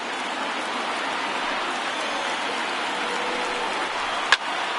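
Steady roar of a large stadium crowd in a PS4 baseball game, over 39,000 fans on their feet, a continuous broad wash of cheering throughout with a brief sharp crack near the end.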